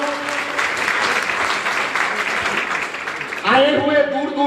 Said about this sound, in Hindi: तो सर के लिए एक जोरदार ताली बनता है